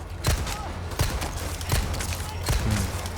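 Sharp gunshots go off at intervals of about three quarters of a second in Resident Evil 4 Remake, each a crisp bang over a low rumbling game background.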